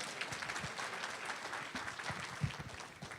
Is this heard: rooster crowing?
no